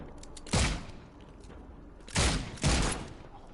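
Gunfire in the horror game The Sinking City: three loud, booming shots, one near the start and two close together later, each with a short rumbling tail over a quiet background.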